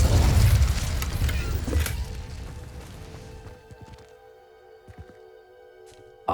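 The Incendio fire spell cast in Hogwarts Legacy bursts out as a loud roaring blast at once, then fades over a few seconds into quiet game ambience with faint clicks.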